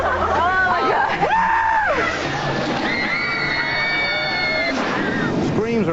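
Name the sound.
riders screaming on a thrill ride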